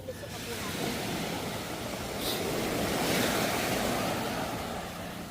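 Strong ocean surf breaks continuously along a shore, a loud, steady wash of crashing water swelling and receding over several seconds, with wind buffeting the microphone throughout.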